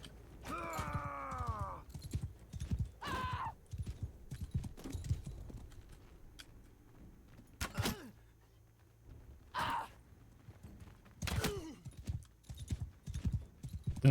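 Horse hooves clip-clop in Mount & Blade 2: Bannerlord, a steady rhythmic trot running through the whole stretch, with occasional grunts, gasps and combat-like bursts over it.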